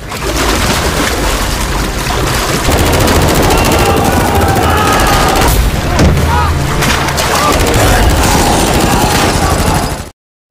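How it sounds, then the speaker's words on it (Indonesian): A film shootout with rapid machine-gun fire and booming gunshots, loud and dense throughout, with voices mixed into the chaotic barrage. "aksi tembak-menembak pun kembali terjadi"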